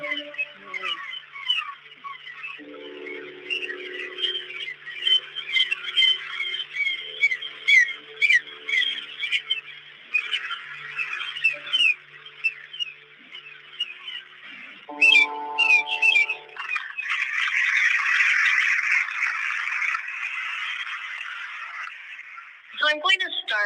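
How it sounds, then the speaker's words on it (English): Bird song fills the scene, a long run of bright chirps, trills and whistled phrases, fairly close and steady, with a softer low murmur beneath in places. "Bird singing."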